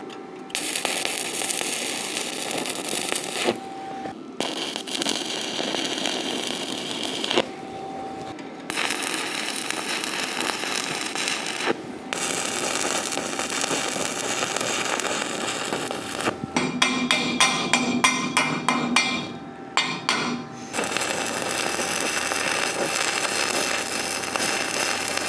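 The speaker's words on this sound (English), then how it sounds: "I'm gonna put a few tack welds on this thing, and then we're gonna lay down some beads" Welding on a steel fly fishing raft trailer frame, a loud continuous crackling arc buzz with brief breaks between beads and a stretch of sharp rapid ticks, no talking.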